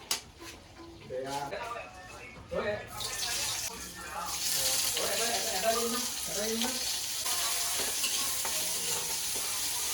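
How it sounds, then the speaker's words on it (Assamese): Potatoes frying in oil: scraping stirring sounds at first, then a strong continuous sizzle with occasional clatter, and faint voices underneath. "এইবাৰ এইখিনিত আলুখিনি ভাজিম"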